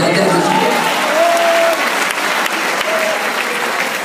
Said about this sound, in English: Clap your hand and praise God